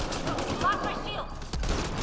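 Steady gunfire rattles through a Mass Effect Andromeda multiplayer match, with a loud thump near the end, as someone speaks over the shooting.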